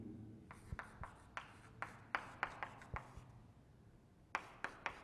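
Chalk or marker strokes on a board while writing out a chemistry reaction, a series of sharp, quick taps and scratches in irregular bursts, close and fairly quiet with no talking.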